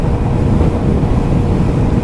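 Steady wind roaring against a rider's helmet on a 2026 Zontes 125X scooter, a loud continuous low rumble with no talk.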